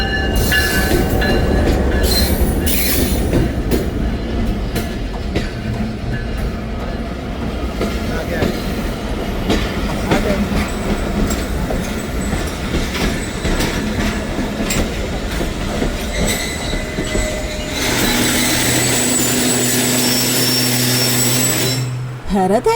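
Subak Raftar railcar rumbling along the tracks toward Jhelum station, a loud, steady roar with rhythmic clickety-clack of the wheels and a brief squeal, with a voice talking over it.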